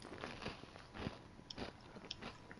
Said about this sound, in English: These chips are so crunchy, I like can hear it.